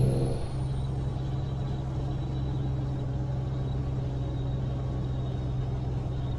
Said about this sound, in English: driving this truck is a lot smoother than other trucks that I've driven